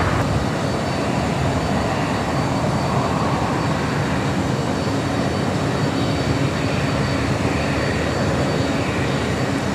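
A Finnair heavy Boeing 777 on short final at LAX produces a loud, continuous broadband jet-engine roar that stays steady and close throughout, with no voices over it.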